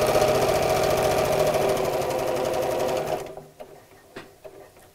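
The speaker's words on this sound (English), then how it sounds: "So I'll sew straight down to the top of the foot." A sewing machine stitches a seam on a fabric dog-shaped doorstop, running steadily and loudly for about three seconds, then stopping, with a few faint handling knocks afterward.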